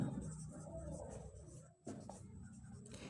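Pen or chalk scratching out a quadratic equation during a Class 10 algebra lesson, a steady rough scraping under low room noise with a brief pause midway.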